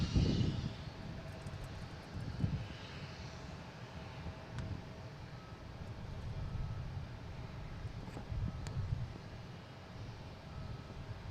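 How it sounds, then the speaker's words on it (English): Southwest Boeing 737-800 arriving from Chicago Midway to land at Boston Logan, a distant, steady jet engine roar with low rumble that swells and fades gently, with no talking. "And right now we have Southwest coming in, 737-800"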